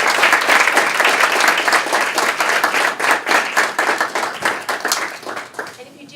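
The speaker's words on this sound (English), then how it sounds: "so let's give a final round of applause." A closing round of applause at the end of a speaker series talk, with dense crowd clapping at a steady level that gradually thins and fades toward the end.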